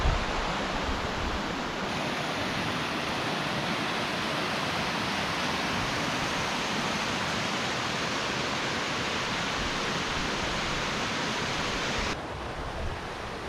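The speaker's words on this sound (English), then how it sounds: "this is the upper kind of part of the falls, cascading here" Water cascades over the upper section of MacGregor Falls in a loud, continuous roar, close by and steady from start to finish with no voices over it.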